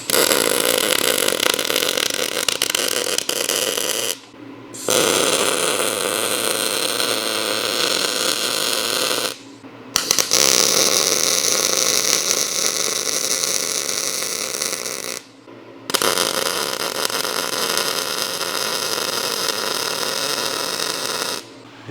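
MIG welding with an ArcCaptain Aim-forge 250 and C25 gas, running vertical beads downhill: a steady, loud crackling hiss in four long bursts separated by brief pauses.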